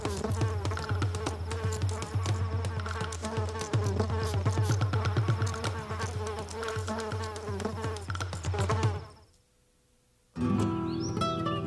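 Insects buzzing continuously around garden flowers, a dense, steady drone that drops out briefly near the end before resuming.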